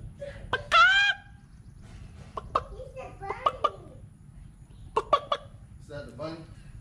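Chickens on a Southern farm, with a rooster crowing once near the start and scattered clucks and calls following in short bursts over steady low background noise.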